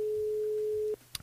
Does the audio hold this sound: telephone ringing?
yes